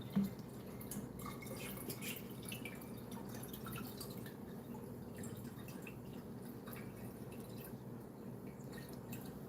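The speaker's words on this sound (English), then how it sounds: "I'm filling up my water container here out of my pure filtered, whatever it's called." A water container fills from a filtered water dispenser, giving soft steady trickling with scattered drips, fairly faint and close, and no one talking.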